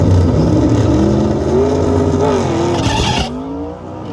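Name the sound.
turbo Dodge Dakota RT drag strip pass, tires spinning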